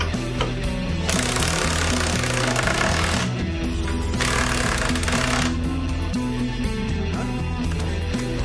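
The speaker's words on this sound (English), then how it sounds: "we're just running some bolts down in" A power tool drives bolts into a winch mount for a Badland ZXR3500 winch and snow plow, braced on a floor jack and wood block, rattling loudly and continuously in close bursts.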